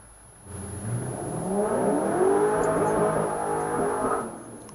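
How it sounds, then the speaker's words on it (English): A motorcycle engine revs up, its whining harmonics climbing and holding near the rev limiter for a few seconds before dropping away, close and fairly loud. "Hitting the rev limiter and all."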